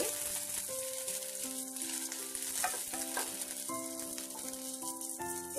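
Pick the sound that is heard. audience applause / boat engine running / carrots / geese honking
carrots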